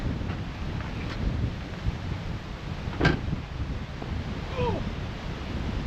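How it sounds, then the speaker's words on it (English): Strong wind blows steadily during a severe thunderstorm at a truck campsite, a broad continuous rush with gusts, and one sharp knock partway through. "Wind has definitely picked up though."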